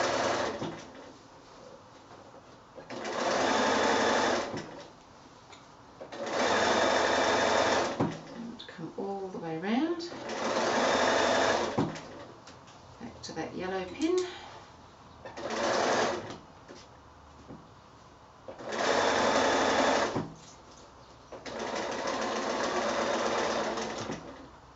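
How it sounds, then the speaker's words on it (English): A sewing machine stitches a quilted drawstring bag seam in repeated bursts of steady mechanical whirring, each lasting a few seconds, separated by pauses in which a person talks. "you're pretty much sewing over the top of your previous line of sewing"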